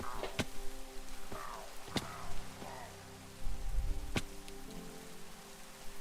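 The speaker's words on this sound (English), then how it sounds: "It really sucks that it's fucking raining." Rain falling in the Minecraft video game, a soft steady patter of drops under scattered sharp clicks and thuds from gameplay, with no voices.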